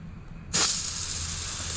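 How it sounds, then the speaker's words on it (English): A Rust-Oleum spray paint can fires its vertical spray pattern, a sudden loud hiss that starts sharply after a quiet moment and holds steady to the end. "This is the vertical spray."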